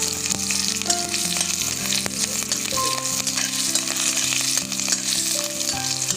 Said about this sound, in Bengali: এবার রসুন আর কাঁচা লঙ্কা ভেজে দেবো।